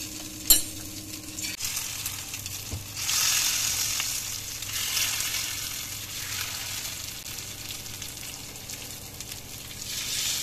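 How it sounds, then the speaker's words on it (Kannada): Egg slices dipped in corn slurry sizzle on a hot tawa, a continuous frying hiss that swells after a sharp utensil clink near the start, with occasional light scraping. "ಈ ರೀತಿ ಬಿಸಿಯಾಗಿ 2 ಕಡೆ ಅದು ಫ್ರೈ ಆಗಲಿ ಸ್ವಲ್ಪ."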